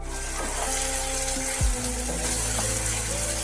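Onions frying in a pan after spice mix goes in: a steady loud sizzle with crackling fills the whole clip, and a short scrape or clink comes partway through.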